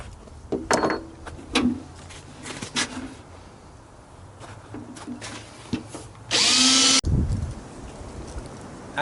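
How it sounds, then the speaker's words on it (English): A step drill boring 7/8 inch holes for an oil immersion cooling build for a Bitcoin Antminer, heard as a few short bursts and then one sustained loud whine near the end, with quiet gaps between. "we are going to use this step drill to drill these two 7/8 inch holes"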